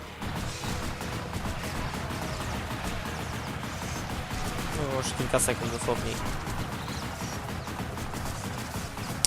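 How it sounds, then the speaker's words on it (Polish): Rapid, loud bursts of gunfire in the video game X-Blades crackle and pop throughout, mixed with explosions and someone talking over the din. "Bardzo głośne są te wystrzały. Z pocisków."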